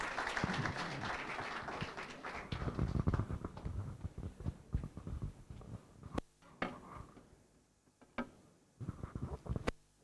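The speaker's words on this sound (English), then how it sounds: "With a round of applause, please." Audience applause at a telecom industry event in Ghana, a brief burst of clapping that swells loudly at first and then thins into scattered, fading claps, with clinks and rustles in the room.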